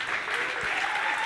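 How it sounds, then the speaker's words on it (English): An audience at a fight-league quarter-final draw and press conference applauds in a dense, continuous burst, close and fairly loud, with no break across the moment. "Come on, give him a round of applause."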